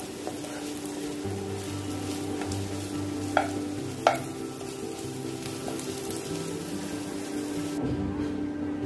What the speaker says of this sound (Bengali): এভাবে পেঁয়াজ 2-3 মিনিট নরম করে ভাজি করে নেব।